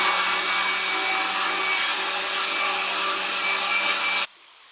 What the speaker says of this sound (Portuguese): Agora nós vamos bater por 2 minutinhos essa mistura aqui.